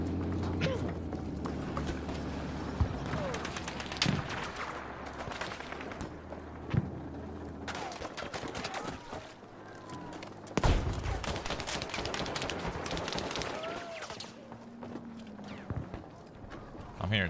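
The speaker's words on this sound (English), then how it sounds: "I'm hearing so many gunshots." Gunfire from the shooter game Battlefield 5, with dense bursts of rifle and automatic shots crackling throughout, near and distant, over a steady game-engine rumble while players talk.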